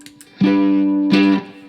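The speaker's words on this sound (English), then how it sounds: "So it just gives a little crackle on especially on the front end" Ukulele played through a distortion pedal, two sustained fuzzy buzzing strums with a gritty crackle at the attack, close and alone, with no voices.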